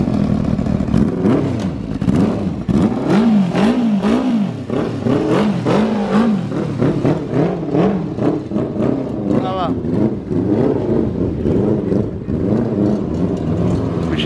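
A modified Honda Fan 600R motorcycle on the street revs repeatedly, the engine note rising and falling in loud, close bursts with a rough clattering edge, while people talk over it.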